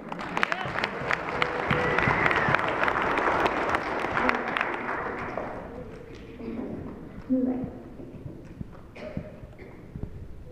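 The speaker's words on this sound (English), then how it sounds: "that deserves some applause" Applause at a church baptism: a crowd claps loudly for about five seconds and then fades into scattered claps and murmuring voices.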